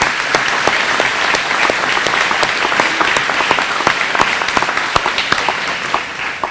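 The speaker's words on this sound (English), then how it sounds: "Let's applaud the teachers and the staff for that" Audience applause for elementary school teachers and staff at a district kickoff event, a dense, steady crowd of clapping that holds for several seconds with sharp individual claps standing out.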